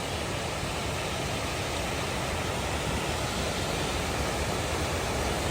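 A waterfall on a hiking trail, heard as a steady, dense, broadband roar that stays loud and unchanging throughout, with no voices.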